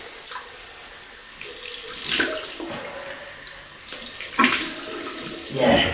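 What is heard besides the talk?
water tap running for cold rinse after shave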